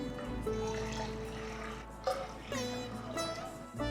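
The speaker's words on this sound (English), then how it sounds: "Now take a pot or a saucepan and add about 3 cups of water to it." Water poured into a pot or saucepan for cooking ragi kanji, a continuous splashing pour with shifting pitch and a few gurgling swells, close and moderately loud with no talk.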